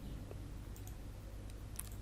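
A few soft, quick computer mouse clicks tap out separately against a quiet room hum, with no voices.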